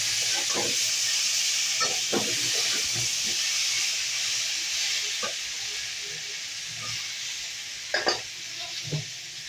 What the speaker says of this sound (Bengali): একটু মশলাটা কষে নিই